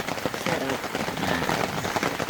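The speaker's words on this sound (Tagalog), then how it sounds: "Ulan." Heavy rain pours steadily during a Canadian outing in bad weather, a dense hiss of drops on surfaces running close and loud throughout without letup.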